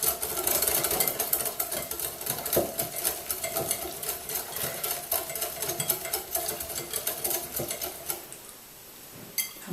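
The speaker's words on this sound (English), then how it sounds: "So just give it a really good whisk until it's all really well combined." Raw chocolate spread being whisked in a bowl: a fast, steady clatter of whisk tines against the bowl, close and continuous, easing off near the end.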